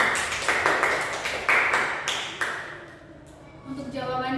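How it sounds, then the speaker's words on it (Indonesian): A classroom of students claps for a group after their presentation, a loose run of sharp claps that fades out, with talk resuming at the end. "Beri tepuk tangan dulu buat kelompok 2."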